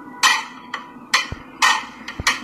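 Six sharp metallic hammer strikes at an uneven pace, ringing briefly, with a couple of dull thuds in between.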